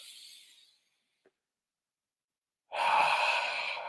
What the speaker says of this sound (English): All I need to do is just take a quick breath.